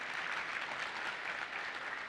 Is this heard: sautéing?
no